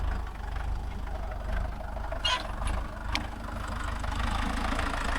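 A Mahindra Yuvo Tech Plus 585 DI tractor engine idles steadily outdoors on a farm, a continuous low diesel rumble with a few faint clanks and ticks over it and no speech.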